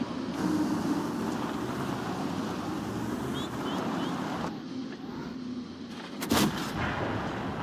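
Tank cannon firing in World of Tanks, a single sharp, loud blast near the end cutting through a steady rumbling engine and battle ambience.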